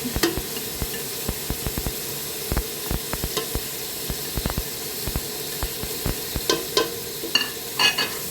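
Ground beef fries in a pan with a steady sizzle while a utensil stirs it, making repeated close scraping clicks over the frying, with no voices.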